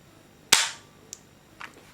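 A WE SMG-8 airsoft submachine gun fires one sharp, loud single shot, followed by a couple of faint mechanical clicks and no talking.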